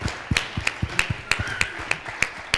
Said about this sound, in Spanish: ¡Un aplauso a esos ganadores!